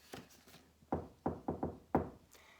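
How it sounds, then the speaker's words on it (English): Knocking on a door during a storybook reading, several sharp raps in uneven groups, a couple of early faint taps then louder close knocks, quiet background. "Soon there's a knock at my door."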